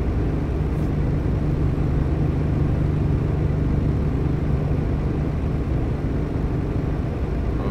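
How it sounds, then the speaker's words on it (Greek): A steady, unbroken engine drone from a motorbike in Euro Truck Simulator 2 with ProMods, loud and close with a low rumbling hum that holds level the whole time. "Ο ήχος από το μηχανάκι τα σπάει."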